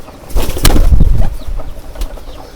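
Pigeons flap their wings in a short burst of fluttering close by, a loud flurry of wingbeats that fades to a faint rustle, with no voices.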